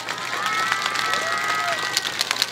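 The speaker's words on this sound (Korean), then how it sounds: "박수 한번 다시 주시겠어요?" Crowd applauding at the Wednesday rally over Japanese military sexual slavery, an outdoor protest in 2019, with brisk continuous clapping and scattered cheers from a sizable group, mid-distance, with some voices mixed in.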